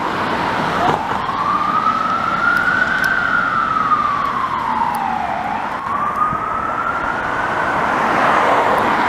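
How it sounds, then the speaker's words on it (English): An ambulance siren wails past on Boulevard Pie-IX in Montreal, its pitch sweeping slowly up and down, loud and fairly close over steady traffic rumble. "just got that ambulance responding"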